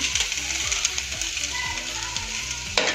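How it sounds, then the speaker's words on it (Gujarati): Taro root (arbi) pieces frying in oil for a Gujarati curry, a dense continuous sizzle with quick rhythmic scraping as the pan is stirred, close and steady, no talk. "આપણી અળવી સારી રીતે ફ્રાય થઈ ગઈ છે"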